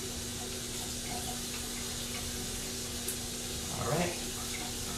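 Hot water runs steadily from a tap during tongue scrubbing, a soft, constant hiss with a faint hum and a brief splash of movement near the end.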